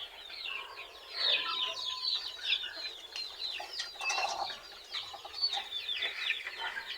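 Free-range chickens on a backyard poultry farm cluck and chatter continuously in a busy flock, with overlapping calls close by and no talking.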